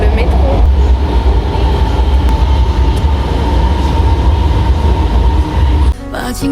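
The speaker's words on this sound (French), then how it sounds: "Là, on est dans le métro." Inside a moving Beijing metro train, a loud, steady rumble of wheels and carriage noise fills the space close by, then drops abruptly to a quieter hum near the end.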